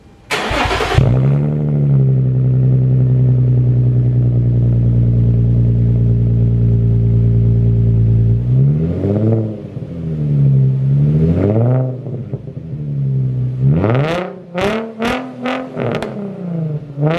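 A Nissan 350Z fitted with a Tomei Expreme Ti titanium exhaust cold starts with a quick crank and bark, settles into a loud, steady high idle, then answers several sharp revs that rise and fall near the end.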